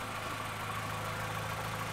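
A Volkswagen Jetta engine idles steadily, a low, even mechanical hum with a constant throb, heard close and with no one speaking over it.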